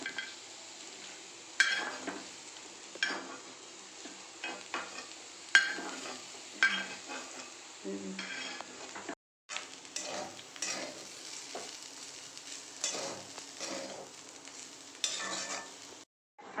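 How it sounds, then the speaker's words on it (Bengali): Sliced onions fry in a pan with chilli powder and cumin powder, a continuous sizzle broken by repeated scraping and stirring strokes of a spoon against the metal, with a short pause partway through. "হাফ ভাজা হয়ে গেছে, এবার দিয়ে দিলাম পেঁয়াজ, একটু লঙ্কা গুঁড়ো জিরে গুঁড়ো দিয়ে দিয়েছি।"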